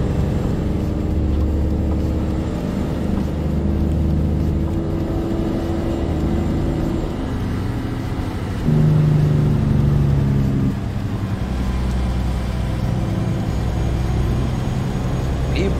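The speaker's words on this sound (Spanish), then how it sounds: "se escucha muy muy bien el motor" A Volvo VNL 2018 truck engine in American Truck Simulator drones steadily at low pitch for the whole stretch, its tone shifting as revs change, with a voice speaking over it.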